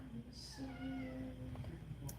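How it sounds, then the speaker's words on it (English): A pet house cat gives a faint meow at a distance indoors, under a low steady background hum during an evening game night. "Can you guys hear my kitty in the background?"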